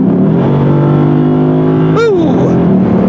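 The V8 of a 2023 Lexus IS 500 F-Sport idles with a loud, steady burble, then is blipped once in a sharp rev that quickly falls back to idle.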